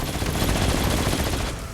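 A minigun in the Spider-Man PS4 video game fires a dense, continuous loud burst of rapid gunfire that fills the whole moment without pause.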